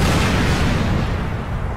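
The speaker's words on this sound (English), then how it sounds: "Did you hear that explosion?" A low, rumbling explosion from the video game Crackdown, a dense broadband boom that fills the whole moment loudly and steadily without a clear separate onset, with no talk over it.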